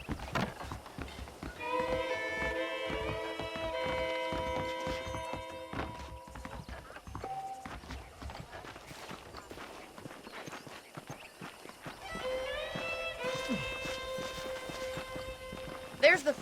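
Horses' hooves clip-clopping in Red Dead Redemption, a steady walking rhythm of hoof taps alongside stretches of character dialogue and a brief whinny.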